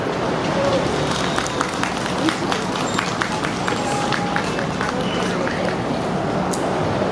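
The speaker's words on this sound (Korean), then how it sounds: "덕암 박종린 법사님을 힘찬 박수로 맞아주시길 바랍니다." A crowd at an outdoor Buddhist rally calling for the president's resignation applauds as a speaker is welcomed, a dense, steady wash of clapping heard from within the audience.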